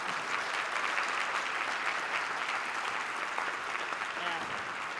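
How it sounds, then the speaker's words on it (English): A luncheon crowd at a humanist conference in a hotel claps steadily and fairly loudly for about five seconds, with a few voices mixed into the applause. "Let's give them a round of applause."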